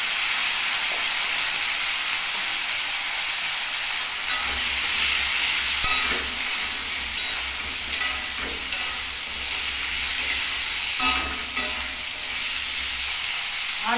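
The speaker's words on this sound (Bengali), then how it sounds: "এখানে একটুখানি হলুদ দিয়ে আমি আলুটাকে একটু ভেজে নিচ্ছি লাল লাল করে।" Potatoes frying with turmeric in a pan, a steady soft sizzle and hiss with occasional louder bursts and stirring scrapes, close by and without talk.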